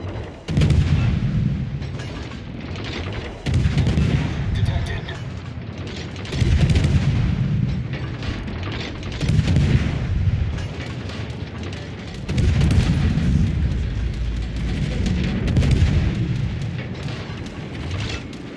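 Naval guns fire shells in the World of Warships Legends game, heavy booming salvos arriving in roughly regular waves with rumbling tails, loud and continuous throughout.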